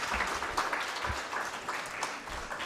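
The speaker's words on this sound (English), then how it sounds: "Let's give them a round of applause." Audience at a university moot court competition final in Kenya applauding, a sustained even roar of many hands at moderate volume, with a few murmured voices beneath.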